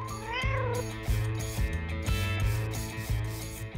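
A cat gives one rising, drawn-out meow near the start, followed by a series of rhythmic rubbing or scraping strokes at a steady pace.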